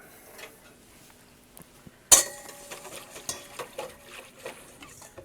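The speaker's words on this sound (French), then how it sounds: "je remue." A spoon stirring collagen powder into liquid in a container: after a sharp clink, a run of quick, close clinks and scrapes with an irregular rhythm, and no talking.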